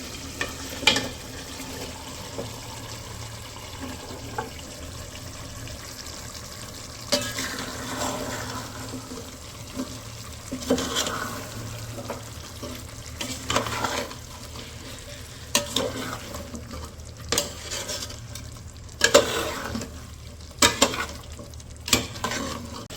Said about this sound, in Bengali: এই যে এই পাশে হচ্ছে মাংসের সাথে ডালটা হালকা একটু কষিয়ে নিছি।